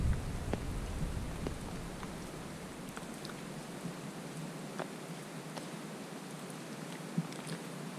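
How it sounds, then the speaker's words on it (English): Steady rain falls with scattered drops ticking nearby on a canoe trip in Woodland Caribou Provincial Park, a soft continuous patter with no voices. "Still raining."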